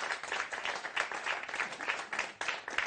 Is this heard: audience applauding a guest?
yes